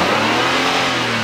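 A car engine revving hard and loud up close, one sustained roaring burst with a steady low throb and no voices over it.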